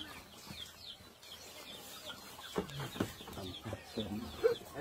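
Chickens cluck intermittently nearby over a soft outdoor background, the short calls scattered and somewhat irregular, with some faint voices.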